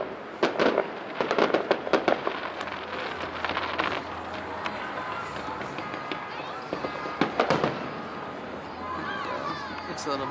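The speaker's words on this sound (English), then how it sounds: "I think it's kind of cool hearing the explosions go off the second time behind us." Fourth of July fireworks in Sparks, Nevada go off in rapid bursts of bangs and crackling, loudest early on and again near seven seconds, with echoes rolling back and people talking in the crowd.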